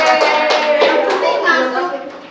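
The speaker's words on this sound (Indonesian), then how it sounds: "Tepuk tangan semuanya." A classroom of students clapping together during a sociology microteaching lesson, a short burst of quick overlapping claps mixed with children's voices and chatter.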